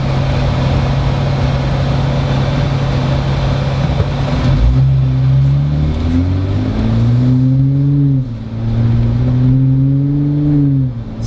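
Jeep Wrangler JL or Gladiator JT with an iDRIVE throttle controller in Ultimate 3 mode: a steady engine hum, then a loud rev that climbs through the gears with rising, falling and rising pitch, close and without talk.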